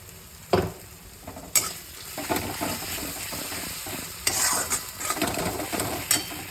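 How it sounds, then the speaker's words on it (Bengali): Fried onion with added mustard-poppy paste sizzling in oil, close crackling with several sharp spatula knocks and scrapes against the pan as it is stirred. "পেঁয়াজটাও ভাজা হয়ে গেছে এবারে সর্ষে পোস্তটা দেবো"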